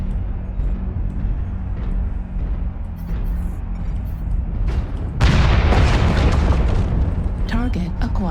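Artillery strike explosions in the mech combat game MechWarrior Online: a low rumbling bed gives way to a loud, sudden impact burst with crackling debris that stays heavy and sustained after it.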